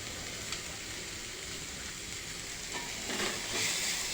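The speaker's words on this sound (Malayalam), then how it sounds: "ക്യാരറ്റ് മാത്രമല്ല, നമുക്ക് ബീൻസും കൂടെ അങ്ങിട്ട് വഴറ്റാം." Carrots and beans sauté with onion in a pan, a steady close sizzle and faint crackle throughout with a few soft stirring knocks.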